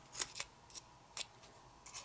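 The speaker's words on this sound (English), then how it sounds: "So I'm just folding it like that and like that." Paper being folded by hand for an origami jumping mouse, several quiet, crisp crinkles and creases in an irregular rhythm, close up and soft with no talking.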